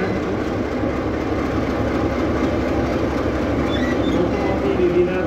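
An ČKD T478 eight-cylinder diesel freight locomotive from the 1960s rumbles with a steady, heavy engine drone and rolling rail noise, close and continuous, with no speech.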